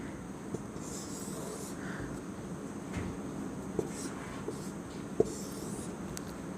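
Marker or chalk strokes on a board during a math lesson, faint scratchy writing marks with a few small taps, close but quiet over a steady background hiss.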